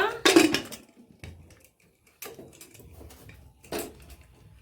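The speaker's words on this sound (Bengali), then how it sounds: "দেখুন গ্যাসটাকে ধরিয়ে এবার প্রেসার কুকারটাকে বসিয়ে দেবো। এবারটা ঢেকে দেবো।" A pressure cooker being set on a gas stove and covered for chicken curry, with a loud clatter of metal at the start and a few sharper clanks and knocks after, close by.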